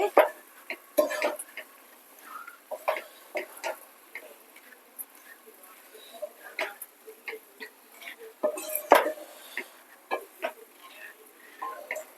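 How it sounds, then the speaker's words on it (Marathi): Red sauce macaroni pasta being stirred in a pan, with scattered light scraping and tapping of a utensil against the pan, intermittent and close, over an otherwise quiet background. "आता हे सगळं व्यवस्थित मिक्स करून घ्यायचंय"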